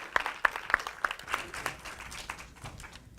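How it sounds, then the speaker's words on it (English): Audience applause after a performance, a burst of claps that starts sharp and loud, then thins into scattered, softer clapping over a few seconds. "Give them another round of applause."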